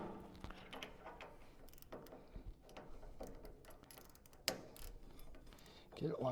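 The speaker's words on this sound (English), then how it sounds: "I'm gonna go ahead and use the ratchet to go ahead and get a couple threads started" A ratchet clicks in quick, faint bursts as it turns a bolt on a dwarf race car, mixed with metallic clanks and workshop handling noise, with a light voice now and then.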